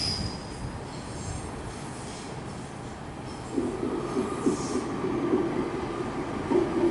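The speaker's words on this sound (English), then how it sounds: "And the metro set is emerging from the yard." A Sydney Metro train on a Tallawong service emerging from the yard, a low rumble with faint wheel squeal that grows louder and rougher midway as the set draws nearer.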